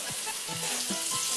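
Breaded cheese sticks fry in a hot pan of olive oil, giving a steady, close, dense sizzle with faint crackles and a few soft clinks, and no talking.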